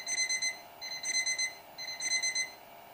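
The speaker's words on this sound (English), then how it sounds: "Now you can hear the sound of the alarm." A computer alarm from a Python alarm-clock program beeps in three bursts of rapid high-pitched tones, each about half a second apart with short pauses between, clear and close.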